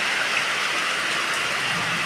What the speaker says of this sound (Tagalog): Patuloy pa rin po ang ulan.